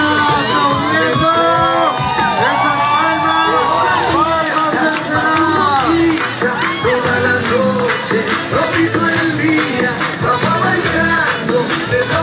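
A carnival parade crowd in Ensenada cheering and applauding a dance group, loud and close, with shouts, whoops and a lively voice over a busy wash of music and babble.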